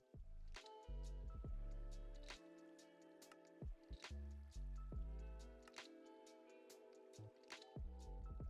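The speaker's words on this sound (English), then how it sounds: "Ooh, water is falling through over here." Water stream flowing in Minecraft Hypixel Skyblock, around a cactus farm, comes through as soft repeated dripping and squishing splashes over low game tones, quiet and steady with no talking.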